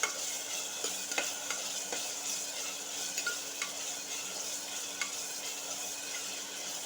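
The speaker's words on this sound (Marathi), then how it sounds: "इथे आपण कांदा वगैरे आपला ते घ्यायचा परतून घेऊया" Onions sautéed in a pan for a Marathi dal palak, a soft continuous sizzle broken by scattered light scrapes and taps of a spoon stirring, fairly quiet and without talk.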